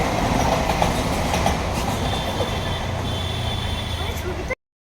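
A train rumbles past close by, loud and continuous with rattling wheels and a faint squeal, before the sound cuts off abruptly.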